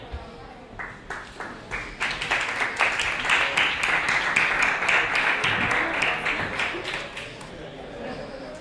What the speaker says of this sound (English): So please, a warm applause for Jaime.